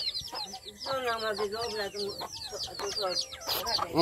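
Many chickens cluck and squawk busily up close at feeding time, a noisy continuous chorus with a person's voice mixed in.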